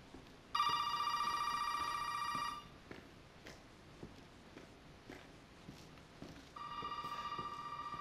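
A telephone rings in the video game Resident Evil 7 Teaser: a loud electronic trill for about two seconds, then a pause filled with faint footsteps, then the ring starting again near the end.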